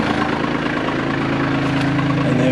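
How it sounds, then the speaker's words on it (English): A tractor engine runs at a steady idle, a continuous low rumbling drone with a faint rhythmic knock throughout. "So we're going to start our tractor."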